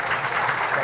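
Applause from a forum audience greets a speaker named Daltro, a brief, dense burst of clapping throughout.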